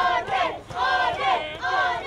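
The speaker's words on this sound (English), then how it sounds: "We hear the crowd chanting for Will Allday." A professional wrestling crowd at a Reality of Wrestling no-disqualification match chants loudly in unison, a rhythmic repeated chant of several beats filling the arena.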